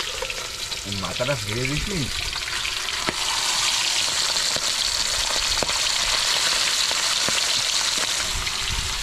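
Hilsa fish frying in a pan at an outdoor riverside picnic, a loud continuous sizzle and hiss with occasional clinks of a utensil, while someone talks briefly near the start.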